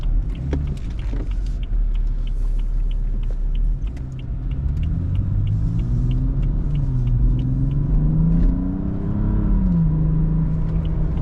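A 2015 BMW 435i M-Sport with a turbocharged straight-six drives along, its engine a steady loud rumble with rising and falling tones as it revs through gears, heard from inside the cabin without talk.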